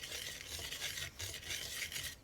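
Sugar and salt being mixed in a bowl for a chocolate fudge pie give a soft, steady granular scraping and stirring, close up but quiet, with slight pulses as the spoon moves around.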